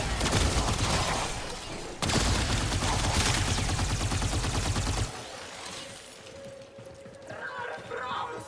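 Dense, loud firing fills the first five seconds in the sci-fi shooter Warframe, a continuous roar of rapid shots with a brief break, then it drops to quieter game ambience with faint talking.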